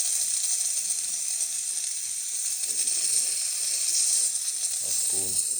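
A Jura Impressa XS90 espresso machine, freshly serviced, gives a steady hissing steam sound with faint mechanical ratcheting, continuous through the clip, plus a short clunk near the end.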